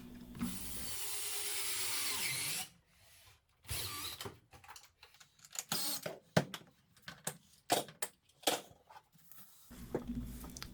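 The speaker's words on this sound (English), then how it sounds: "And with the first screw in place, I can put in the second one." A screw being driven into an Ikea toekick unit: a steady whirring tool run for a couple of seconds, then a series of short, close scraping and clicking bursts as the screw is worked in, with no talk.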